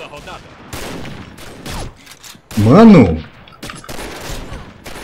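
Rapid gunfire bursts in the shooter game Combat Arms, several quick volleys and one loud sustained stretch of fire, with someone speaking over the shots.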